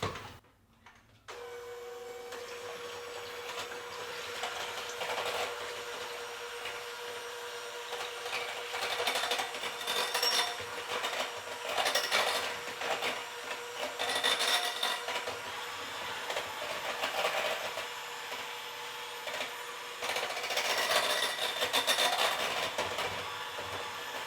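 Raw cat food mixed with taurine whirs and churns continuously for over twenty seconds, a moderately loud mechanical drone that swells and eases. No one speaks.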